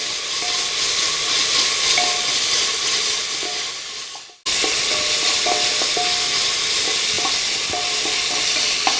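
Sliced onion frying in a pressure cooker with green chillies gives off a steady, loud sizzle and hiss, broken by a brief drop when stirred, then sizzling on evenly.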